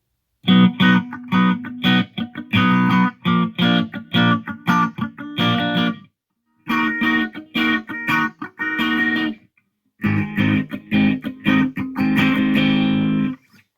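An effects-processed electric guitar plays a riff in a tight string pattern, loud and close, with short rhythmic bursts broken by two brief pauses.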